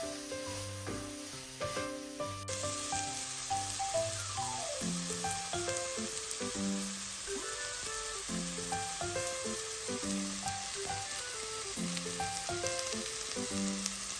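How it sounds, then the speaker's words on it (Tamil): Ground spice paste sizzling and frying with prawns in a pan for garlic prawns, a steady close crackle with stirring scrapes, no voices, with a soft musical backing throughout. "இப்படி வந்து இந்த ஸ்பைசியையும் போட்டு வடிவா மிக்ஸ் பண்ணிக்கொள்ளுங்க."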